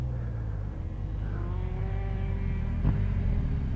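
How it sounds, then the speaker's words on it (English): A BMW R1200 GS Adventure motorcycle engine drones loudly as its pitch drops steadily, braking hard from high speed, with a short clunk near the end. "You gotta stop in the box in first gear"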